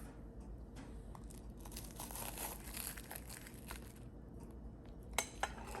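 A knife cutting a warm toasted sandwich in half, with soft crinkling, crunching and scraping, plus a couple of sharp clinks near the end, close and fairly quiet, with no talking.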